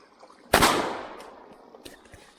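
A single loud hunting shotgun blast firing birdshot at a broken basin outdoors, a sharp crack followed by a long fading rumble and echo, with faint background noise.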